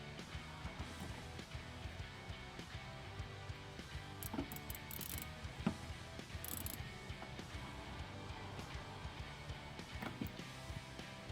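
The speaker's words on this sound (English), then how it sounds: "remove the 7mm bolt right here from our bumper" Hand ratchet loosening a 7 mm bolt on the rear bumper of a 2010–2015 Camaro SS, a steady run of fast close clicks repeating throughout, quiet and alone without talk.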